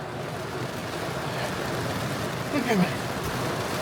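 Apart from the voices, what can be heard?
heavy rain falling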